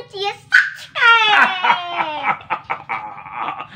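A chicken gives a string of clucks and squawky cries at close range, mixed with lively high-pitched talking voices.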